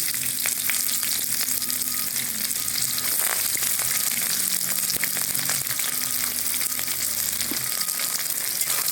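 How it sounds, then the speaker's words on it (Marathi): Onion frying in hot oil with caraway seeds and cinnamon for a vegetable pulao, a steady close sizzle with scattered crackles and spatula scrapes throughout, no talking. "आपलं शहा जिरं दालचिनी तळलेलं आहे आता आपण त्याच्यामध्ये कांदा टाकून घेऊ"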